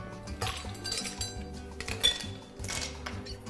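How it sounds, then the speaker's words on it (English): Ice cubes clink and rattle into a glass while a Negroni is being made, bright glassy knocks arriving in a few close clusters, with no talking. "So we're going to add some ice."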